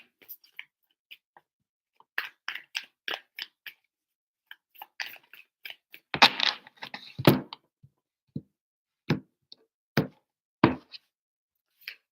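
Tarot cards are handled and shuffled up close: scattered soft flicks and taps, with a brief denser riffle in the middle.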